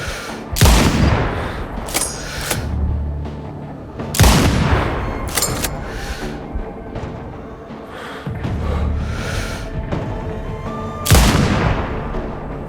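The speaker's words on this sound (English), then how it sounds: "Reporting constant mortar fire." Repeated mortar fire in the shooter game Sniper Ghost Warrior Contracts 2: four loud, heavy booms spaced a few seconds apart, each with a long rumbling tail, alone without talk.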